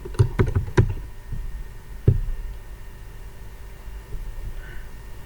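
Keys tapped on a computer keyboard while entering a search term, a quick burst of several clicks followed by one isolated stroke, close and moderately loud over a low room hum.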